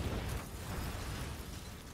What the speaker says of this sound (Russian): Блять, она бабахает мощно